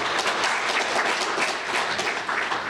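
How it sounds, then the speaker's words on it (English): Applause from a conference audience at a DerbyCon security talk, a dense, steady wash of many hands clapping at once that holds evenly for a few seconds without a break. "Thank you for your thunderous applause"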